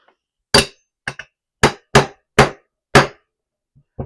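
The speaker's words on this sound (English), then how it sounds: "And then kind of finish her off here with the little hammer." A small hammer taps on AR-15 lower receiver parts, seven sharp, close metallic strikes in an uneven rhythm with silence between each blow.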